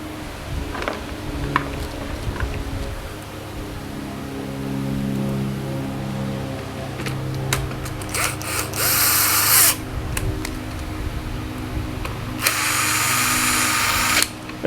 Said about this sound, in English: A screw gun.